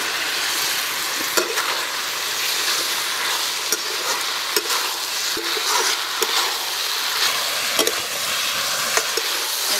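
Taro stems fry with spices in a pan, giving a loud, dense, continuous sizzle with scattered sharp pops and crackles throughout and no voices.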